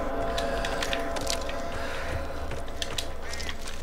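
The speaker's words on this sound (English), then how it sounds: "more birds. It's like a little swamp here." Swamp ambience from the video game Back 4 Blood, with duck-like quacks and bird calls repeating over a steady, dense background wash, fairly loud and continuous.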